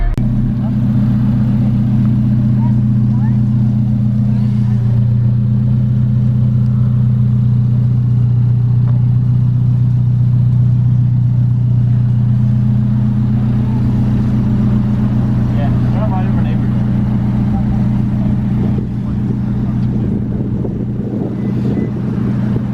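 An Alfa Romeo 4C sports car without power steering is driven, and its engine holds a steady, loud low drone with a slight rise near the end. People talk over the engine noise.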